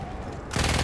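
Gunfire in the video game Battlefield 1, on a battlefield with anti-aircraft fire. A quiet background rumble gives way to a sudden loud burst of shots in the final half second.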